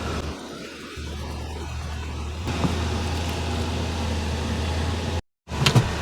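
A first-generation Toyota Tundra truck idles steadily nearby with a constant low hum, while faint clicks and handling noises occur close by and a brief dropout breaks the sound near the end.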